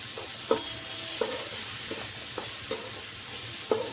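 Tomato with turmeric and salt sizzles softly in a pan as a spatula stirs it, giving a faint continuous fry broken by about six short scraping strokes at uneven intervals.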